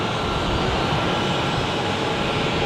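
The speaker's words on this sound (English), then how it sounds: "We have the Air Europa 737-800 being pushed back, flying to Madrid." An Air Europa Boeing 737-800 at Zurich airport during pushback, a steady, loud, close jet engine roar filling the short stretch without any speech.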